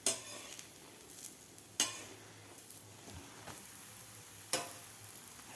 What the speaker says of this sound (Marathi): असा गोल्डन कलर होईपर्यंत आपण भाजून घेऊया.